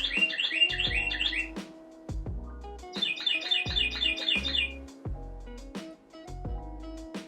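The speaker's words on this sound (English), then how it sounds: "Freaking bird clock." A bird clock chimes with repeated chirping bird calls in two bursts, set over a steady rhythmic music bed with low thumping beats.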